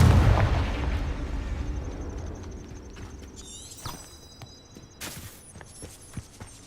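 A Confringo fire spell detonates in Hogwarts Legacy with a loud, booming blast that rolls into a fading rumble, followed by bright chiming magical tones and a few scattered thuds.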